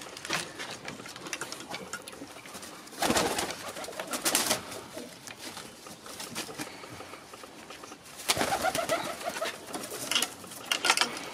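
Crested pigeons coo in a loft in soft, repeated rounds, fairly faint and near, over a rustling background with no talk.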